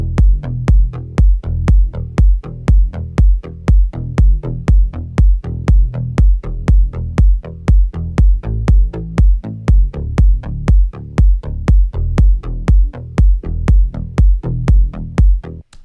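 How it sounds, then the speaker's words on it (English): A punchy, low bass line plays repeated plucked notes in a steady driving rhythm, mostly hammering one pitch with occasional changes, loud and without vocals. "Let's listen to the bass line."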